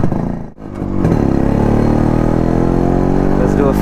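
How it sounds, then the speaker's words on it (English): A Harley-Davidson Road King motorcycle rumbles loudly and close, the engine dipping briefly and then pulling into a steady, throbbing drone under acceleration. "This is my first time riding a Road King actually"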